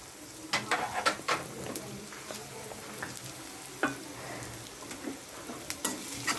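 Red chili hits a pan of sizzling Goan-style egg bhurji, with soft continuous frying and a series of sharp scraping stirs and clinks close by, no voices.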